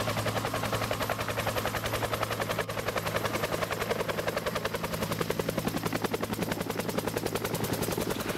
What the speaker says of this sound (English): they recognize a Huey.